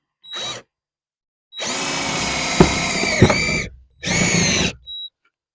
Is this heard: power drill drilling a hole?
yes